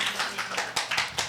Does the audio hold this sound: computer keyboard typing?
no